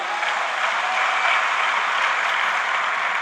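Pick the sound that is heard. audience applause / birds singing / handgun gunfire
audience applause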